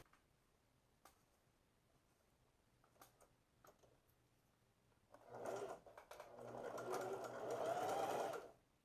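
A sewing machine stitches the top seam of a pinned peplum blouse top, first with a few faint ticks and clicks, then a steady close whirring run of stitching for the last few seconds.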